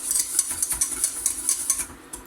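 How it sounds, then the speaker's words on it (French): A utensil stirs lemon cream thickened with cornstarch in a pot, scraping and clinking in a quick, steady rhythm of close, bright strokes with no talking. "Il faut essayer de ne pas s'arrêter de mélanger."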